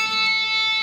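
Sustained, ringing electric guitar tones, played without a delay effect, with steady harmonics and no echo trailing after, clean and fairly loud.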